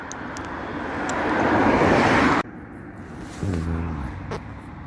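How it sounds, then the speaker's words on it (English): Road traffic passes near a bridge at night: a loud vehicle roar swells and cuts off abruptly, followed by a quieter engine hum with a rising tone, no speech. "Still too much traffic."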